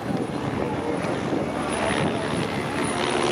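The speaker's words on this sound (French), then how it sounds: "Ah oui, il y a encore des hélicoptères." Helicopters flying over a Tour de France stage in Quercy, a steady broadband rotor and engine drone that stays loud and constant throughout, with no clear blade chop.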